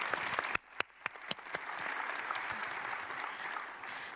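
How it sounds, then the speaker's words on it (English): An audience applauding speakers at an event, starting with a few sharp individual claps and building into a steady, moderately distant round of clapping that continues to the end. "let's give all the speakers a round of applause"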